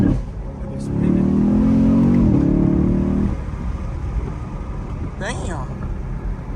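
A Chevrolet Camaro 2SS with a 10-speed gearbox accelerates hard, its engine roaring loudly for about two seconds as the tires spin, then settling into a lower drone while a person talks over it.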